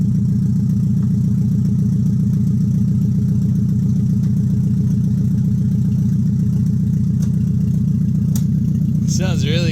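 A KA24DE engine swapped into a Nissan 300ZX runs with no exhaust attached, giving a loud, steady, rough idle drone close by that continues unchanged, with a brief clatter near the end.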